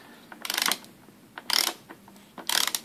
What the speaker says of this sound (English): And then tighten that up with the lock ring tool.